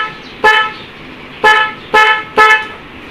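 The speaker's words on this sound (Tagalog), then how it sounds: "ipindot natin yung busina." A loud motorcycle dual horn, fitted with a relay, honks four times in short bursts, the first and second spaced apart, the last three closer together, with no talking.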